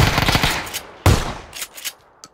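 Automatic weapon fire in PlayerUnknown's Battlegrounds, two sharp bursts of rapid shots followed by fainter scattered pops, loud and close with no talk.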